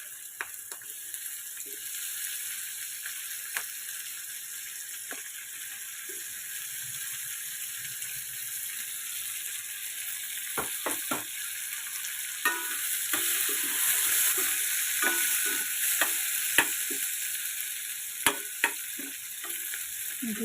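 Sliced onions and green chillies fry in oil tempered with asafoetida for a Telugu tomato curry, giving a steady close sizzle broken by repeated clicks and scrapes of a spoon stirring the pan.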